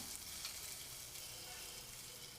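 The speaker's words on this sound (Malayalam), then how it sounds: "കനം കുറച്ചൊന്ന് അരിഞ്ഞിട്ട് അതും കൂടി ഇട്ട് കൊടുക്കുക" Thinly sliced onion frying in a pan with fennel seeds and curry leaves makes a soft, even, continuous sizzle, quiet and steady, with no talking.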